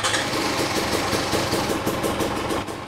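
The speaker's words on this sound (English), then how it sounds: "I'm going to start the engine" A KTM TPI two-stroke motorcycle engine starts and idles steadily nearby, a fast, even rhythmic chugging that holds at a constant pace, with no talking.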